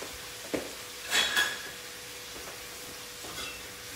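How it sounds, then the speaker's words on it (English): Tomatoes going into hot oil for a vegan puttanesca sauce, giving a steady hiss of frying with a few sharp clinks and a louder burst of sizzle near the start. "So now we'll put the oil, the tomatoes."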